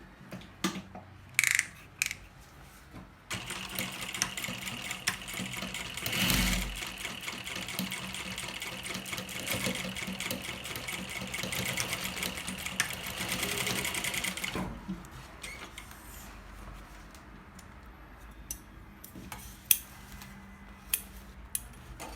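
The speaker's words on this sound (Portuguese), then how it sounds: "a gente vai passar uma costura aqui, tá? Com um pé de máquina" Sewing machine with a presser foot stitching down a folded panel on a baby outing bag, a steady close whirring run of about eleven seconds, bracketed by scissors snips, handling clicks and fabric rustle.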